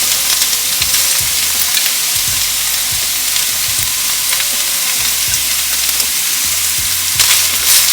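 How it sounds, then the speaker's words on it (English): Flaked saltfish frying in a pan with fragrant softened aromatics, a loud close sizzle carrying on steadily while a utensil stirs and scrapes through it in irregular strokes. "Gonna give this a stir."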